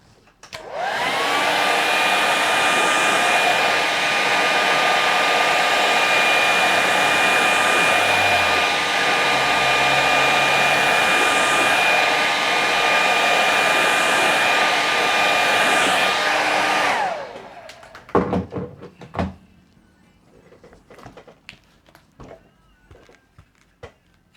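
A hair dryer blows over wet watercolour paint, a loud steady whooshing whine that runs continuously for about sixteen seconds, then cuts off and leaves faint clicks and handling noises.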